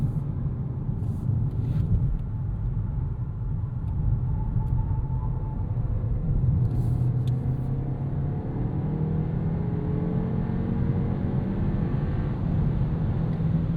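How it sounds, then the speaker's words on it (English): A 2026 Kia K4 turbo hatchback taken flat out through a corner gives a steady, loud interior engine drone and road rumble, the pitch rising slowly as it builds boost, with no talk. "You saw we exited that corner, I was flat out, and it did have to kind of build up boost to pull itself out of the corner."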